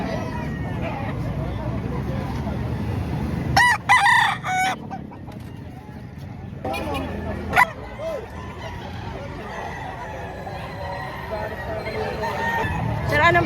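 Roosters crow at a chicken market in Padre Garcia, Batangas, with a couple of loud close crows standing out over a busy bed of crowd murmur, clucking and a barking dog, while people talk nearby.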